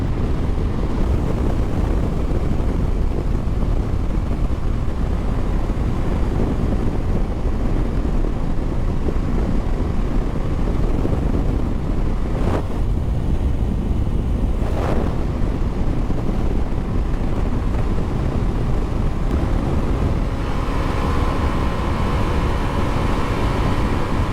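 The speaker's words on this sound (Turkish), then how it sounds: "Rüzgar var burada." Steady, heavy wind buffeting the microphone while riding a Bajaj Dominar 250 motorcycle, a dense roaring rush that continues unbroken throughout, loud and close with no voices.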